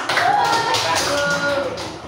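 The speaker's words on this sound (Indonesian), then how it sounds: "Ayo tepuk tangan" A school class claps hands for a classmate, a short, steady patter of applause mixed with children's voices.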